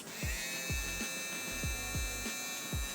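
A Royal Clips Fade Kit 2.0 electric shaver runs after being switched on, giving a steady high motor buzz with faint hum, punctuated by about six soft low thumps, close and quiet, with no voices.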